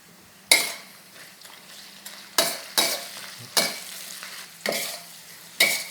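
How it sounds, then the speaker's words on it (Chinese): Twice-cooked pork stir-fried with chili bean paste and a soft sizzle in the wok, broken by a series of sharp metal spatula scrapes and clinks in an irregular rhythm, close and fairly loud. "我们就可以下那个红油豆瓣酱，直接下半汤匙了，下半汤匙，继续炒一炒。"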